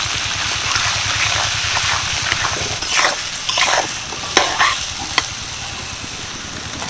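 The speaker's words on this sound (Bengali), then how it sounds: "এবার তেলের মধ্যে দিয়ে দিচ্ছি কেটে রাখা বেগুন" Cut eggplant sizzles steadily in hot mustard oil while a utensil scrapes and stirs through it, with a few sharp clinks against the pan.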